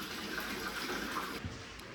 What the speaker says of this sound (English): Okay, so there's our water pressure now.